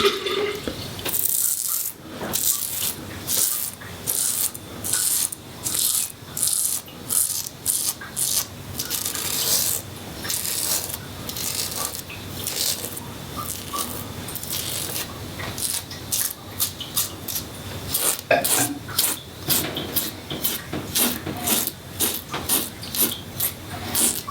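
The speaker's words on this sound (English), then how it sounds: "But I'm going to shave the rest of my face here." A razor drags across a man's face with shave solution, repeated short scraping strokes in a steady rhythm for a long stretch, close to the microphone with no talking.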